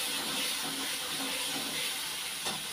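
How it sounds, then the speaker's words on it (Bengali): Hot water pours steadily into a pan of cooked spice mixture, a continuous rushing hiss with a small splash near the end. "গরম জলটা দিয়ে দিচ্ছি"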